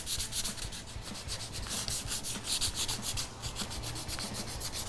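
Fine sandpaper rubbed by hand over a wooden bar corner, a close steady rhythmic scratchy rasp of quick back-and-forth strokes, no talking.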